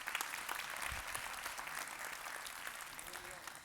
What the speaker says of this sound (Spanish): Qué bueno, un aplauso para ella también.